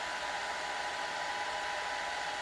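A hair blow dryer fitted with a diffuser runs steadily, a constant close whooshing roar of air with no pauses and no voices.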